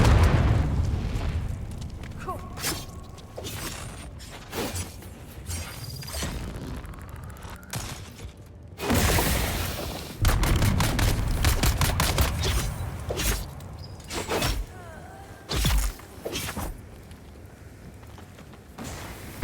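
Heavy machine gun fire in Dune: Awakening, loud repeated bursts and booming blasts spread across the stretch with short pauses between volleys, no voices over it.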